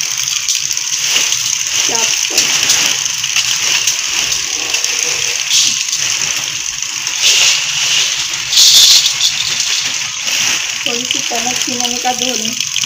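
Grain is washed by hand in water in a village home in Punjab, Pakistan, a continuous close sloshing and swishing with some rattling, while someone talks over it.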